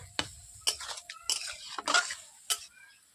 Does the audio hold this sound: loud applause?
no